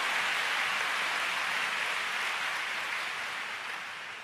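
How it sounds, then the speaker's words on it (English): Steady wash of applause from a church congregation clapping for the Lord during a bilingual English–Chinese sermon, dense and even throughout, slowly easing toward the end with no voices over it. "Come on, give the Lord a big clap."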